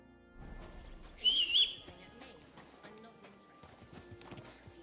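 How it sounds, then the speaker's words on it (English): A horse's hooves clip-clop in a soft rhythm beneath ambient sounds of Kingdom Come: Deliverance II, with a short whistle near the start. "Here's my horse, just in case."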